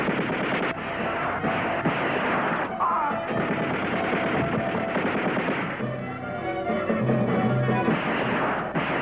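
Weapons fire in a sustained, dense barrage of gunshots and rapid machine-gun bursts, loud and continuous throughout with a wind-like roar beneath.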